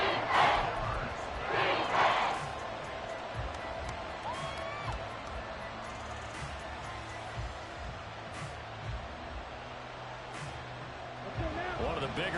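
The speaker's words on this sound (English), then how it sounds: "The crowd getting into it as we come up on a big third down." A football stadium crowd roars ahead of a big third down, a broad steady wash of cheering and shouting from a large distant audience. A commentator talks over it.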